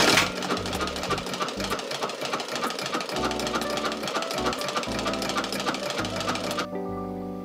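A sewing machine stitches a bleach-painted tapestry in a steady, rapid mechanical whir that runs loud and close almost throughout, then stops abruptly near the end.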